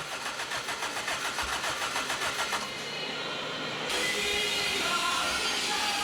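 Toyota 4A-GE swapped engine cranking over and catching, then settling into a steady loud idle that shifts in tone partway through, close by with no talk.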